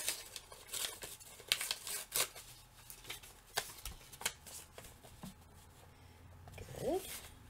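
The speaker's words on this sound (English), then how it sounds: "we'll tear some paper" Paper being torn by hand during a craft session, a run of short crisp rips and crinkles at close range with brief pauses between them.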